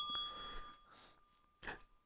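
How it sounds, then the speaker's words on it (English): Censor bell ding in a horror video game playthrough, a short bright ring that sustains faintly, with a few soft thumps and another brief ding later, fairly quiet with no talking. "You have your censor bell."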